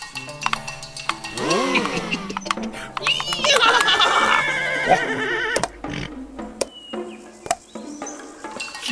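Horse neighing, a loud, close whinny with wavering pitch in a storybook scene, followed by clip-clop hoof sounds and sparse knocks.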